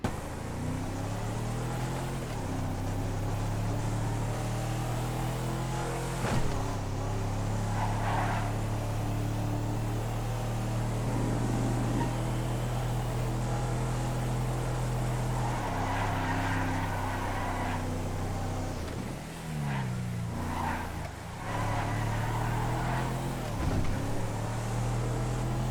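Steady engine drone of an SUV on a test ride, loud and continuous with shifting pitch as it accelerates and eases off, no talk.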